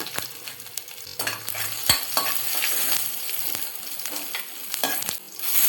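Onions, garlic, curry leaves and asafoetida frying in oil, with a steady close sizzle broken by sharp scraping clicks of a spoon stirring against the pan throughout.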